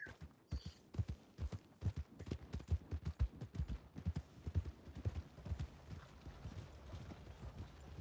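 Horse hooves clip-clop in a video game in a quick, uneven rhythm of close, distinct thuds, fading a little toward the end.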